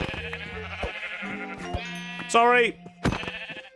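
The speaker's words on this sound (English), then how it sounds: "there's some sheep there and we could really do with their wool" Sheep bleat in Minecraft, a wavering, quavering cry rising clearly midway among other game sound effects, with a brief spoken word nearby.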